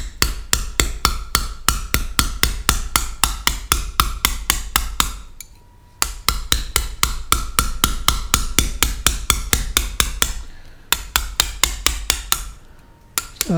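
Wooden mallet striking a gouge chisel to carve Ancaster limestone, a long steady run of sharp even taps, close and loud, broken by two short pauses.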